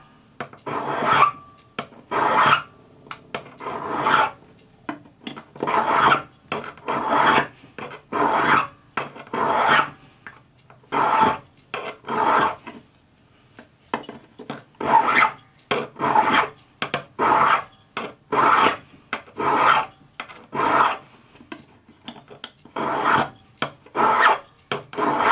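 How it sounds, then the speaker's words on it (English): A number 2 cut flat hand file rasps across metal in steady rhythmic strokes, each a gritty scraping burst with brief pauses between, close and clear with no voices, continuing for the whole stretch while working a folded cuff. "Number 2 cut flat hand file."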